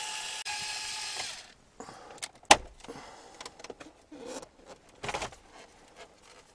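Screws are removed from an interior panel of a Toyota FJ Cruiser with a power screwdriver, short whirring bursts of the driver, separated by clicks, rattles and small plastic handling noises, close and fairly quiet.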